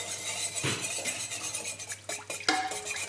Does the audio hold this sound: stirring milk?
yes